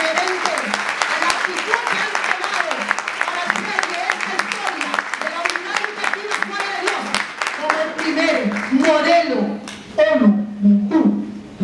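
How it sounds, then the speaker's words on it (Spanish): Loud applause from a school audience at a Model UN award event at Unidad Educativa Juana de Dios, with dense clapping and cheering voices and speech mixed in throughout. "Quiero un aplauso fuerte para todos ustedes."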